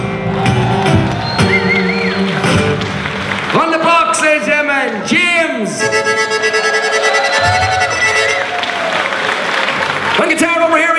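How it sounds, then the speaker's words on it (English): Crowd at an Irish folk festival in the Balver Höhle cave, clapping and cheering loudly while a band plays and a man introduces the musicians over the noise. "Applause."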